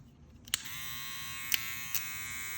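Wahl Hi-Viz electric hair trimmer switched on, a steady high-pitched motor buzz with a few sharp clicks, close and fairly quiet, running alone without talk.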